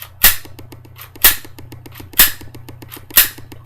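A suppressed handgun is fired soft, sounding four sharp, loud cracks with slide clatter, spaced about a second apart, close up, with a steady low hum between shots and no voices.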